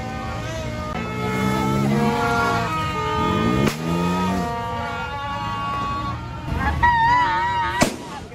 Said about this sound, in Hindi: सही हैवी वाला बम चल रहा है।